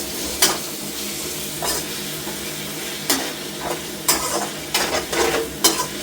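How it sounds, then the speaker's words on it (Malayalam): Chicken and onion frying in oil for a simple chicken curry: a steady close sizzle broken by sharp metal spoon scrapes and clinks against the pan at irregular intervals, no voices. "എണ്ണയിൽ കിടന്നിട്ട് ഒന്ന് വേകട്ടെ"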